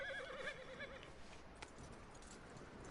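A horse in the Red Dead Redemption 2 video game gives a clear, wavering neigh at the start, followed by soft hoof clops over a steady background wash of game ambience.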